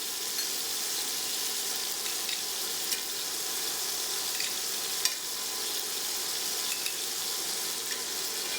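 Pieces of liver fry in a hot pan with a steady, close, crackling sizzle and small pops, and no voices over it.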